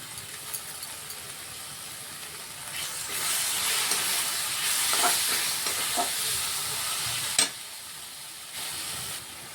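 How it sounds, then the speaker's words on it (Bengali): A pan sizzles steadily as tomatoes sauté with ground coriander and spices, with occasional stirring scrapes and a sharp clink near the end. "1 থেকে 2 মিনিটের মতন আমরা টমেটোটাকে কষিয়ে নেব"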